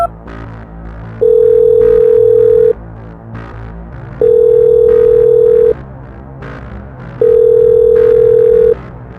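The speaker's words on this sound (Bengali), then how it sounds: "ফোন বাজলেও কেউ রাজুর ফোন তুলল না।" A phone line gives a steady ringback tone in three evenly spaced bursts, each about a second and a half long with equal pauses between, and nobody picks up.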